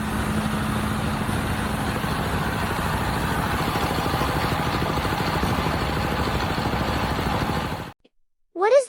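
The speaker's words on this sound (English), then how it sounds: "How does this walking tractor make harvesting potatoes so fast?" Walking tractor digging and harvesting potatoes in a field, a steady near engine chugging with a dense rhythmic rattle for about eight seconds, then cut off abruptly before a brief unrelated sound.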